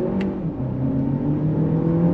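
A 2023 Lexus RX 500h F Sport hybrid SUV pulling hard on throttle, heard from inside the cabin as a steady, rising engine and drivetrain drone with a low rumble, continuous and fairly loud for the whole stretch.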